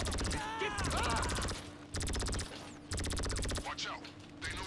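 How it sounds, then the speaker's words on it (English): Rapid bursts of automatic gunfire from Grand Theft Auto during a farm raid, several long sustained volleys broken by short pauses, loud and dense, with game voices and effects mixed in. "I just gotta keep shooting these guys."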